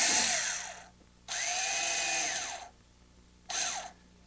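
Power screwdriver driving a toggle bolt into a ceiling, three close whirring bursts of the motor with short pauses between, the last one brief.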